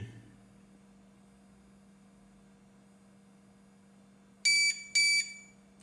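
Two loud, sharp low-battery warning beeps from a Chantower 2200W 24V inverter with a lithium battery sound in quick succession after a long stretch of quiet electrical hum.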